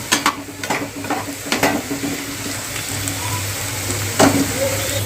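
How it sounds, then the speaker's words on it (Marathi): Cluster beans fry in oil over a medium gas flame with a steady sizzle, broken by a few scraping stirs of a spatula against the pan; close and fairly loud, with no talk. "मस्त कलर येईपर्यंत आपल्याला फ्राय करायची आहे आणि गॅस आपल्याला मीडियम करायचा आहे"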